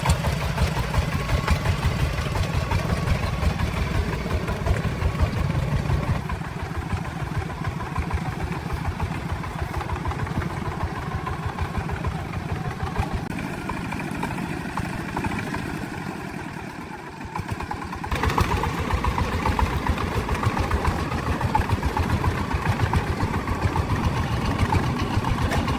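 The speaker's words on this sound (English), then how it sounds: "The strong girl drove the vehicle over rough roads." A logging truck engine runs steadily and loudly the whole time, a rough low rumble that holds at a near-constant level, with a brief dip in power before it picks up again.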